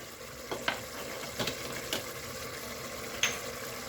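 A fish dish with a stock cube stirred in a pan, with a soft steady sizzle under a few sparse clinks and scrapes of the utensil, close and fairly quiet, with no talk.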